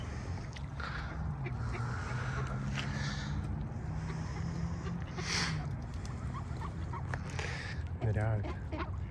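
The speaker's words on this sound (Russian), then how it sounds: "Короче, канадские утки" Canadian geese call in a busy outdoor scene near water, their quacks and honks mixed with steady background noise and nearby people talking.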